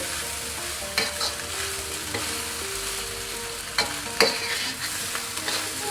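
Rice with shrimp, carrots and peas stir-fried in a hot pan, with a continuous sizzle punctuated by several sharp scrapes and clanks of the spatula, close and fairly loud.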